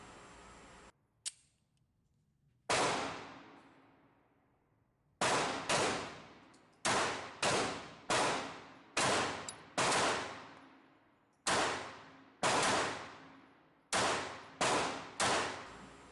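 A Glock 42 .380 semi-automatic pistol fires at a target 24 feet away in about a dozen sharp, loud shots, some spaced out and some in quick pairs and triplets, each with a ringing decay.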